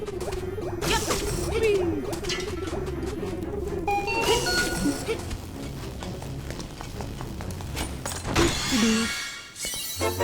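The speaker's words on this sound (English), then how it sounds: "This room has a lot of clattering skulls and shattering glass." Clattering skulls and shattering glass in a dungeon room of the Link's Awakening video game, a busy run of game sound effects with sharp crashes and tinkling hits over continuous background music, loudest toward the end.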